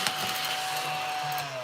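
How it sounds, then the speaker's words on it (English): A small handheld vacuum whirs steadily nearby with a constant motor hum and airy rush, running throughout. "Excuse the noise again for my little vacuum."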